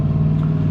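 A car going past nearby with a loud, steady low engine drone and a brief rise in pitch, heard on its own.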